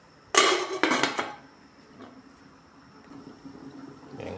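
A lid clanks onto a metal pot of simmering fish and tomato soup: a few sharp metallic clatters close by, then quiet kitchen background.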